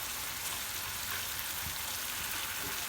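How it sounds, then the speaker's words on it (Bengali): Spice paste for a fish curry frying in a pan, giving a soft, steady sizzle with a constant hiss and no other sounds. "মাছের জন্য মশলাটা কষাই নিলাম"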